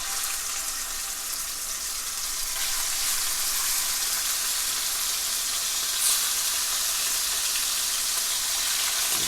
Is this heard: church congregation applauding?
no